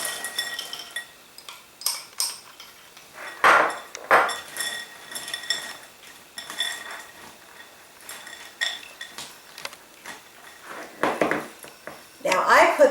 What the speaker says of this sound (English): you're going to add 1 cup of chocolate chips to the mixture and mix well